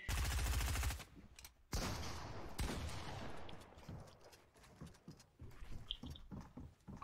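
Rapid SMG gunfire in the Fortnite video game, loud dense bursts at first, then a scattered run of quicker shots and impacts in the game mix, with no talking.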